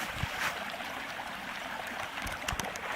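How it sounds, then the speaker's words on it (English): Babbling brook fed by a small tributary stream: a continuous close trickling and gurgling of flowing water with scattered small splashes, and no voices. "Our little body of water is a tributary to a nice little babbling brook."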